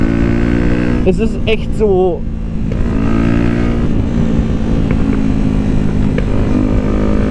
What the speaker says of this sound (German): und dann drehe ich mal ein bisschen mehr auf